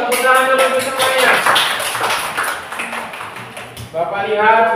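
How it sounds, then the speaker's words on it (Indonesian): Children in a fourth-grade classroom clap their hands together in a dense, rhythmic burst lasting several seconds, briefly fading before picking up again, with voices mixed in. "tepuk tangan dulu untuk semuanya."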